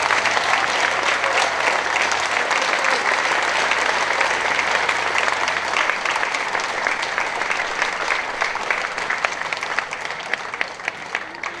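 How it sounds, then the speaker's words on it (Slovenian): Sustained crowd applause at a political party gathering in Bovec, dense steady clapping from many hands lasting throughout, loud and close with a slight fade toward the end. "predlagam en krepak aplavz za Danjo in njegovo ekipo"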